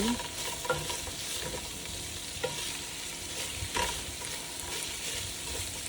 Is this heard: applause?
no